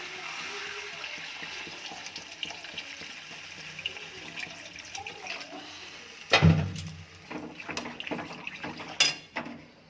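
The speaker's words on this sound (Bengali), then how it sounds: "এবার এতে জল দিয়ে দিচ্ছি" Water is poured into a cooking pan of fried vegetables, with a sudden splash and hiss after soft kitchen background, followed by metallic clatter of the pan and utensils and a few further knocks.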